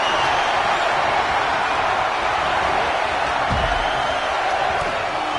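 A steady, dense roar from the arena crowd in the WWE 2K25 wrestling video game fills the whole stretch at an even level, with no voices rising above it.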